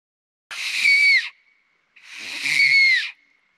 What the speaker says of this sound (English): I'm gonna see if I can still kind of make it whistle.